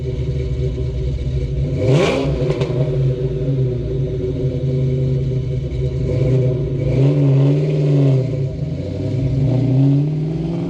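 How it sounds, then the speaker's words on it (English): A loud Ford Mustang V8 with a chambered, Flowmaster-style exhaust and a deep burble revs up sharply, drops to a rumbling idle, then blips the throttle again in a few rolling pulses. "if you want to go with like an old school Flowmaster, like chambered exhaust sound, I'll drop a clip right here"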